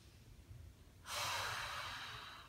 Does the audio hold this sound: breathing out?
yes